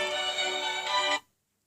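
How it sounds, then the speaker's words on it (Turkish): A phone ringtone plays a steady, bright electronic melody at fairly high volume, then cuts off abruptly after about a second, with no talking over it. "Bu arada telefon çalıyor"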